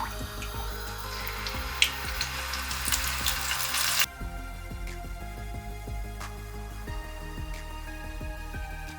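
Steady crackling sizzle of cassava croquette balls deep frying in oil, with scattered pops and bubbling, close by and continuous throughout.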